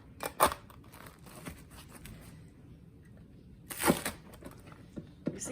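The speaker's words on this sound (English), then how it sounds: "You see how you can hear how crispy the crust is." Deep dish cheese and sausage pizza crust crunching under a knife in two sharp, crisp bursts with faint scraping between, close and alone with no talk.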